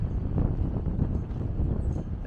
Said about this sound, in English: Pretty windy today, as it is very open plains here